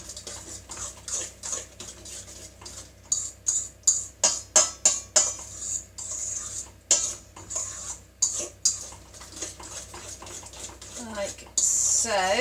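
Chickpea dahl loaf ingredients being stirred together in a bowl, with repeated clinks and scrapes of a spoon against the bowl in an irregular rhythm, close by and moderately loud, and a voice talking now and then.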